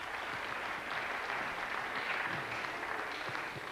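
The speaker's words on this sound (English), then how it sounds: "Give him another nice round of applause." Audience at a memorial concert applauding, a dense, even roar of many hands clapping at once, steady throughout and heard from within the hall, with no speech.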